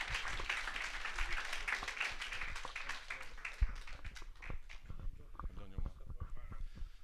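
An audience at a book launch for 'An t-Oileánach – The Families of Valentia' claps in a soft, scattered round of applause that fades out, with voices murmuring beneath it.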